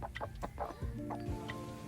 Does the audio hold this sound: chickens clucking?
yes